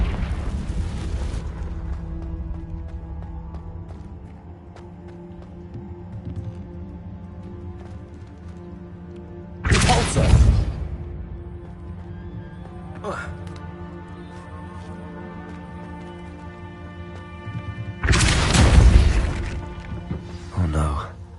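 Confringo explosive spells from Hogwarts Legacy go off as two loud, sudden booming blasts several seconds apart, plus a smaller burst between them, over a steady bed of game music and ambience.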